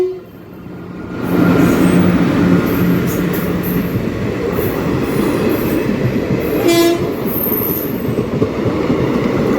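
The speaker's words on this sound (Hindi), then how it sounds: "देखिए, ट्रेन गुजर रही है" A Dhanbad Patna Singrauli Express train passes close by in a steady, loud rumble of wheels and cars lasting several seconds, with a brief horn sounding partway through.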